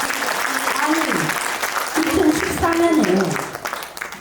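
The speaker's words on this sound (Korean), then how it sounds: "박수 줄 수 있어 박수" Audience clapping at a lawmaker's book concert in Korea, a lively burst of applause under and around someone speaking into a microphone, with talk continuing over the clapping.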